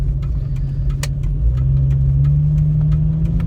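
Jeep Cherokee XJ engine droning steadily while driving, a loud low hum with a slowly rising tone and faint clicks and rattles on top.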